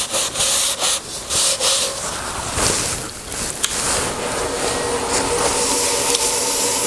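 Oil finish being rubbed by hand onto a turned walnut bowl, a steady close-up hiss of cloth on wood with soft strokes and brief scuffs, no talking.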